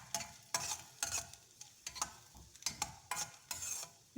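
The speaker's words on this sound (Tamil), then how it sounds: "இப்போ கிஸ்மிஸ் பழத்தை அதோடு சேர்த்துட்டு நல்லா கிளறி விட்டுக்கலாம்." Cashews and raisins are stirred in a pan for a village-style dish, a rhythmic series of scraping spoon strokes about twice a second over a faint sizzle, fairly quiet and close.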